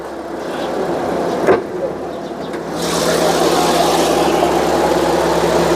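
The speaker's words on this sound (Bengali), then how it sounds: "গাড়ি স্টেডে রাখছি সাউন্ডটা তো ন্যাচারালি যেটা আসে" A used car's engine idles at a standstill, a steady low hum that grows louder and fuller partway through, with a brief knock near the start.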